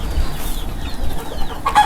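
Chickens cluck softly close by, with low rustling and a sharper squawk near the end.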